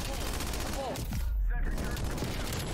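Rapid automatic gunfire from a weapon in Black Ops Cold War, bursts of shots rattling loudly over continuous game noise with a voice briefly heard.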